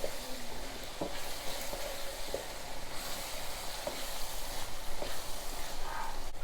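Spices such as turmeric and sambar powder fry in a pan for a South Indian garlic thokku, giving a steady soft sizzle with occasional light stirring scrapes, close and alone.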